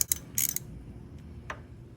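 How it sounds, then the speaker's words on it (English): A ratchet on an extension with a 1/2-inch socket loosens an upper exhaust bolt on a 2015 Harley-Davidson Dyna Street Bob. Two quick bursts of close ratcheting clicks are followed by a couple of faint single ticks. "For this upper one, I'm just using my extension again with a 1/2-inch socket."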